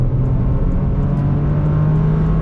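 Toyota GR Corolla engine drones steadily from inside the cabin during a lift-off four-wheel slide, a loud, even tone with road and tire rumble beneath, no talking.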